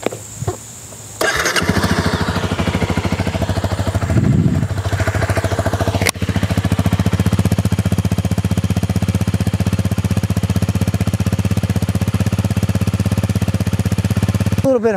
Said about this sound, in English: Let's start it up and see how the bike sounds.